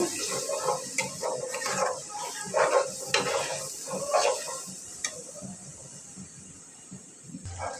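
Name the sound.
stirring masala into chicken pulao in a pan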